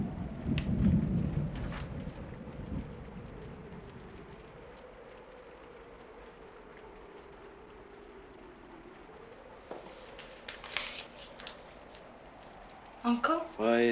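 A spring thunderstorm in a 1968 film: a low thunder rumble swells at the start and then fades into a quiet, steady background, with a few brief sharper sounds near the end.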